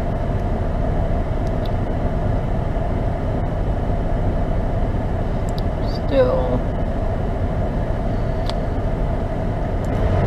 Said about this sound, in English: warming up my car a bit